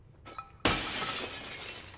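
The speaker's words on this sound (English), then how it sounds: "I just broke some glass" Glass shatters in the video game Little Nightmares 2, a sudden loud crash after a few faint knocks, followed by a lingering tinkling spray of falling shards.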